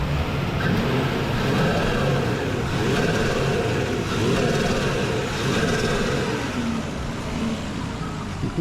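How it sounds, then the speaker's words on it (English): A Nissan R34 engine held at revs with its turbo, a steady mid-pitched drone that swells and eases slightly, close and continuous, with no clear flutter bursts standing out. "we'll give it a few revs and see if it has any flutter."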